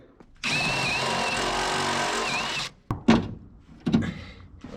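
Power drill boring out a hole in a 1999 Chevrolet S10 pickup, a steady whining run of about two seconds that stops, followed by a few clunks and handling knocks nearby.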